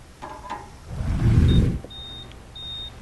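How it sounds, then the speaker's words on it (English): A meat probe thermometer on an electric grill gives short, thin, high beeps, three separate chirps, after a louder whooshing rumble in the foreground. "It's beeping. That means our medallions are done."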